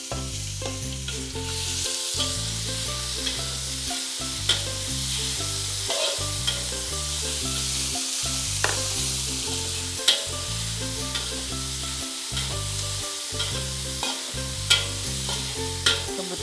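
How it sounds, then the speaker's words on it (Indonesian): Chicken sizzles loudly in a pan while it is stirred, with a continuous frying hiss and occasional scraping knocks from the utensil throughout; no voices. "Sekarang kita masukkan ayamnya."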